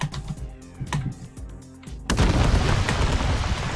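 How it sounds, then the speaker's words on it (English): A series of sharp booms from barrels exploding in the game Trailmakers goes off in quick succession, then merges into a loud, sustained roar of overlapping explosions. "you hear them explosions going off all the way up to there"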